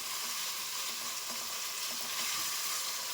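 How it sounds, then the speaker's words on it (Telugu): Tomato pieces and onions frying in a pan for a homemade chicken gravy, a soft even sizzle with a few light stirring taps, close and continuous without talk. "కాసేపు ఇలాగా టమాటా ముక్కల్ని ఉల్లిపాయలు ఇవన్నీ కలిపి మగ్గనిద్దాం"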